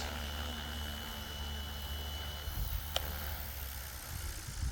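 A small RC multirotor drone with slightly loose propeller blades hums steadily up close while touching down, its low engine-like drone continuous with a brief sharp click near the end.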